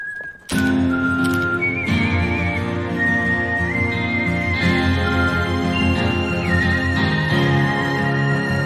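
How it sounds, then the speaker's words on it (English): A clear melodic whistle rises over a full orchestral backdrop, the whistled tune gliding between held notes after a brief quiet opening. "As soon as the whistling starts"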